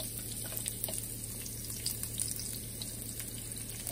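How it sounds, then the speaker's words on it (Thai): Garlic frying in a little vegetable oil gives a steady, soft sizzle and crackle with faint stirring, close by and fairly quiet. "คั่วให้หัวกระเทียม"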